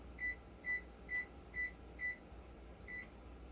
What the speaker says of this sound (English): setting my oven to 325.